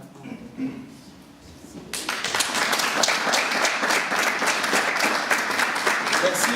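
After a quiet, murmuring pause, applause from an audience at a charity evening in Brussels breaks out abruptly and continues steadily, loud and dense, with voices mixed in.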